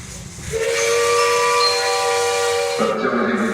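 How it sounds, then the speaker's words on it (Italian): An E444 electric locomotive pulls out of a station bound for Tivoli, sounding a loud, close, sustained multi-tone horn blast that shifts pitch near the end over a steady hiss. "il treno E444 è in partenza per Tivoli dal primo binario."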